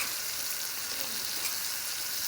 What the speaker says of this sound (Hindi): अच्छे से अब हमने मसाले को भूनना है।